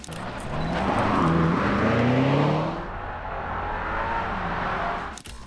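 A BMW M5 G90 Touring wagon engine revs up and surges loudly, then settles into a steadier, lower hum as the car moves along.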